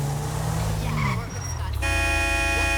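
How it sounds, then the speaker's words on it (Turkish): A loud, steady BMW engine in Grand Theft Auto 5 drones and shifts pitch as it revs, with tire noise around it, then settles into a harsh buzzing tone near the end. "Sadece motor sesini dinleyin abiler."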